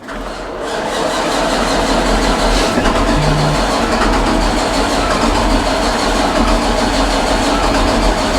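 A CLAAS Lexion 760 combine harvester engine catches after repeated attempts and settles into a loud, steady, close diesel roar that holds for several seconds.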